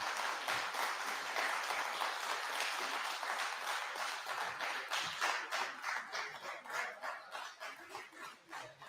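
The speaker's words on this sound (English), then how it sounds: "You can clap now." An audience at a Jamaica Debates Commission local government debate claps after debaters shake hands. The applause is steady and fairly soft, then breaks into more distinct, rhythmic individual claps toward the end, with no talking.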